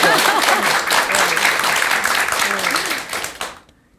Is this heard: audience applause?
yes